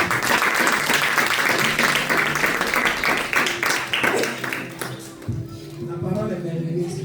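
A church congregation claps together loudly and close, a dense burst of applause that thins out after a few seconds as voices and shuffling take over.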